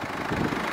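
A 2016 Mercedes-Benz CLA220d Shooting Brake with a 2.2-litre four-cylinder diesel idles in a brief, steady low rumble with a faint knocking texture.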